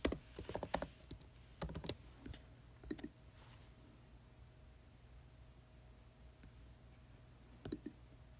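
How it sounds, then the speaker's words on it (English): Someone types a username and password on a computer keyboard for an online login, producing bursts of quick, close key clicks separated by short pauses over a faint steady room hiss, with no speech. "your spouse is going to enter their username and their password to log in"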